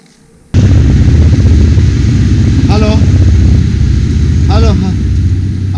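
A motorcycle engine starts up abruptly and runs loudly nearby in a steady, throbbing idle, with brief voices rising over it twice.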